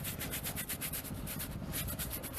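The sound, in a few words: scrubbing a tire with a tire brush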